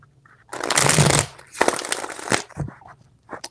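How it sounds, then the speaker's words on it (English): Tarot cards are shuffled by hand in two quick riffling bursts close by, separated by a short pause. "Four shuffles."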